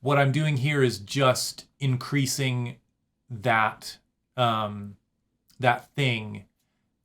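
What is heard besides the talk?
None of the usual background noises is heard.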